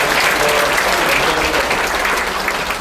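Loud, full audience applause at a memoir book-launch event in the National Assembly Museum, a thick unbroken wash of many hands clapping at once, steady throughout.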